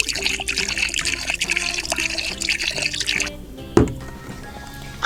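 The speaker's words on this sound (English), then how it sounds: "Let's pour some bubbles in first this time." Bubble solution pouring from a bottle into a plastic toy cup, a continuous close liquid trickle and splash for several seconds, then a sharp plastic knock and quieter dripping.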